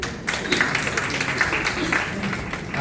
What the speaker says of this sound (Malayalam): ഒരു കൈയടിച്ച് കൊടുക്കണ്ടേ നമ്മൾ